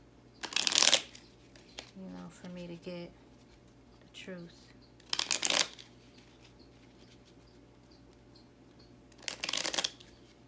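Tarot cards shuffled by hand in quick, crisp bursts of riffling, separated by pauses, while someone talks softly between them.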